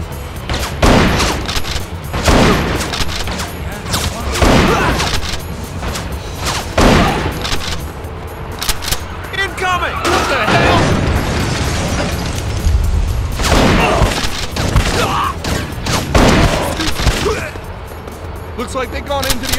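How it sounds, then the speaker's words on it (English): Scatter gun (shotgun) blasts in the video game Bad Boys 2: Miami Takedown, loud booming shots fired in irregular bursts among other gunfire, with voices talking over the action. "Who needs accuracy when you got a scatter gun?"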